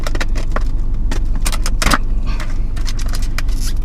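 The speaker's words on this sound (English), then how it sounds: "I have the car running with light air conditioning" A car idles with light air conditioning running on a hot day, heard from inside the cabin as a steady low hum with a few close jangling and scraping handling noises over it.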